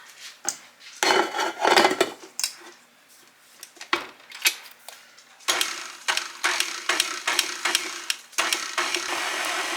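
Electric mixer beating cake batter in a mixing bowl, intermittent rattling and clacking of beaters against the bowl in bursts, close and fairly loud, with brief pauses between runs.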